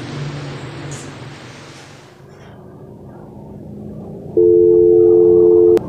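A steady electronic telephone dialing tone sounds alone for over a second after a low background rumble, clear and close.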